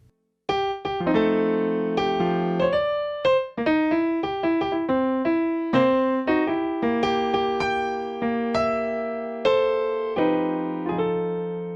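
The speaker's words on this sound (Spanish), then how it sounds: "Si se toca usando elementos del blues, entonces el cumpleaños suena así" A solo piano plays Happy Birthday with a loose, swinging blues feel, bent-sounding grace notes and shifting chords, lively and close for about twelve seconds.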